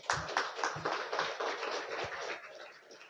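A small audience at a talk on science experiments gives scattered, fairly faint applause. A few distinct sharp claps merge into a light patter that gradually fades.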